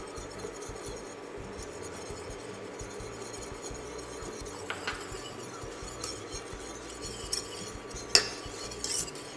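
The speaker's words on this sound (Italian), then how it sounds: "mescoliamo con una frusta in modo che non faccia grumi" Steady whisking of sugar into liquid in a pot, with soft scraping and occasional light metallic clinks, fairly quiet and continuous with no talking.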